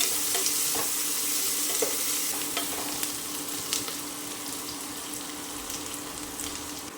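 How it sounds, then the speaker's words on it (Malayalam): Sliced onions sizzle and fry in ghee and oil in a pan for ghee rice, a steady dense hiss with occasional stirring scrapes and small clicks, close and continuous, with no one speaking. "സവാള നന്നായി വഴറ്റിയെടുക്കുക."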